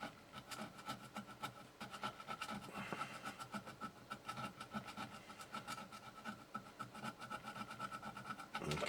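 Flat blade of a screwdriver scraping and rasping at heavy corrosion on a contact inside a Sony ICF-PRO80 radio, a close, steady gritty scratching that continues through the whole stretch without any talk.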